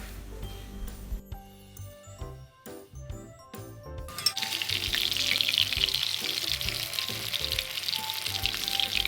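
Chicken pieces deep frying in hot oil for Mexican-style chicken shawarma, a steady loud sizzle that rises sharply partway through as pieces hit the oil, with clinks and stirring sounds before it.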